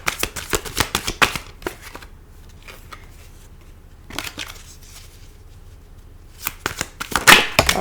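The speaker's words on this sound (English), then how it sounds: "One more card for the Seven of Swords." Tarot cards being shuffled up close during a reading: a crisp riffling flurry, a quieter pause with faint rustling, then another loud burst of shuffling.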